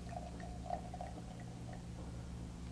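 Champagne pouring into a glass during formal sparkling wine service, a soft steady liquid stream with faint fizzing and a small splash, heard close and quiet with no talking.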